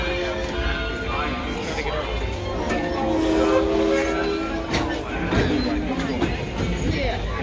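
A Disneyland Railroad train pulls into a station at night, its steady rumble and clatter filling the ride from start to finish, with a voice speaking over the loud, continuous rolling noise.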